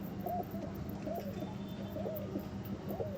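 A pigeon coos four times in an even, rhythmic series against a steady background hum, at moderate distance.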